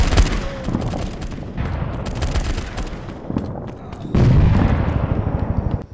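Gunfire and explosions in a World War battle video game as an enemy is blown up: rapid sharp shots in bursts, then a heavy booming blast near the end followed by continued firing.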